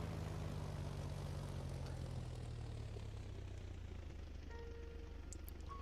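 Propeller airplane droning steadily in the flying game SKYE, a continuous engine hum holding throughout at moderate level with a few faint game chimes near the end.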